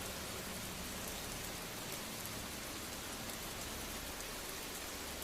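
Steady, dense rainfall hisses evenly and softly throughout, a constant wash of drops with no voices or other sounds.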